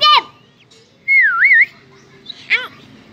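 Bird calls played from a phone speaker, a sharp high chirp followed by a longer wavering whistle-like song and another short call, loud and close in a quiet room.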